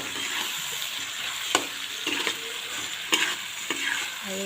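Spices frying in oil in a pan for chicken curry, a steady soft sizzle broken by several sharp scraping stirs of a spoon, close and without talk.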